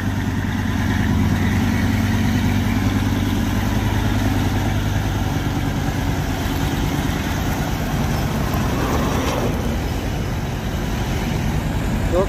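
A trailer truck's diesel engine labours in a deep, continuous rumble as it pushes an L300 pickup up a hill, loud and close, holding a steady strained tone throughout.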